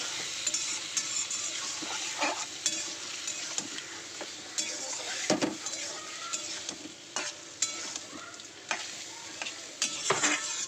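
A full kilo of large prawns fries together in a pan, and the sustained crackling sizzle carries water-laden spitting along with intermittent stirring scrapes and utensil knocks throughout, with no voices.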